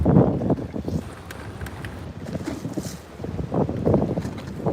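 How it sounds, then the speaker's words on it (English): Wind gusts over open water during a bass fishing trip, rumbling and buffeting close to the microphone in uneven surges, loud and continuous. "Out here in this wind."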